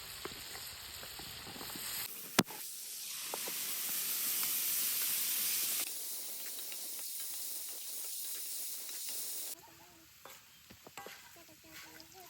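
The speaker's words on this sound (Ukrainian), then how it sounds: "прийшов час кидати нашу бараболю до м'яса" Meat and potatoes frying in a pan, a loud hissing sizzle that swells as the potatoes go in, with stirring scrapes, then drops to a quieter crackle.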